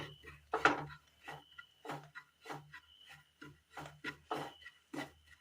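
Food with turmeric powder and meat masala is stirred in a pan with a spoon, about a dozen soft scraping strokes in a steady rhythm, close and fairly quiet.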